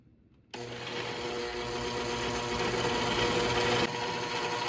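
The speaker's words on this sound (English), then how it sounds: "And I'm gonna give this a blending." A blender starts abruptly and runs with a loud, steady whirring grind, chopping apple cores with a little liquid without pause for several seconds.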